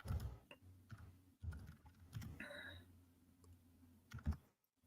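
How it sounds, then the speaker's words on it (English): Clattery computer keyboard being typed on, with close, uneven bursts of key clicks and no talking over them. "I'm sorry if you guys can hear me click-clacking. I'm on a different keyboard today, and it makes a lot of noise."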